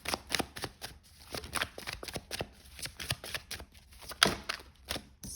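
Tarot cards drawn and shuffled from a deck during a reading. A rapid run of crisp paper flicks and slaps, close and fairly quiet, with one sharper snap near the end.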